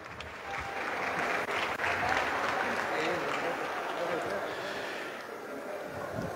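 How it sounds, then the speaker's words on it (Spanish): Steady applause from an audience honouring a women's volleyball team at a tournament awards ceremony in Arequipa, a dense continuous clapping that swells and then slowly tapers. "Un fuerte aplauso para ellas."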